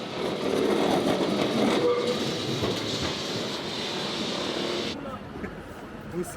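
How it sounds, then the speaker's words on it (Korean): A yellow tram in Lisbon rumbles and rattles along a street with steady rolling noise, a brief squeal, and talking mixed in before the sound drops off. "리스본 하면 노란 트램이 빠질 수 없다"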